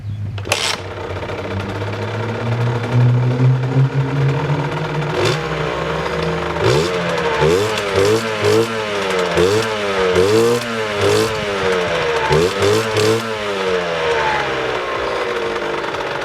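A Beta RR 50 SM 50cc motorcycle engine and exhaust sit at a rough idle, then rev repeatedly in quick rising and falling bursts, loud and close.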